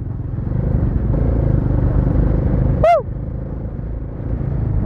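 The engine of a Bajaj Dominar 400cc motorcycle rumbles steadily on a test ride, a loud continuous low drone, with a brief high sweeping whistle-like chirp cutting through near the middle.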